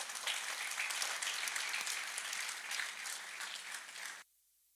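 A summit audience in a hall claps in a steady, dense round of applause for about four seconds before it cuts off abruptly.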